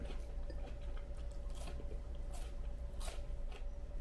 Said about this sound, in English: I hear the crunchy.